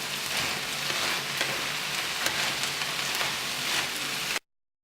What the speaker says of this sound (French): Je mélange et je laisse revenir pendant 1 minute